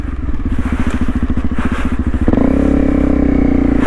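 A Honda CRF250 Rally motorcycle riding along boggy grass, its single-cylinder engine thumping in a fast even pulse close by, then revving up into a louder, smoother steady drone.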